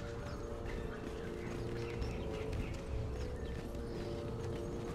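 A horse in the survival video game Conan Exiles (Savage Wilds map), its hooves clopping faintly and irregularly beneath a dense, steady wash of outdoor game ambience with no talking.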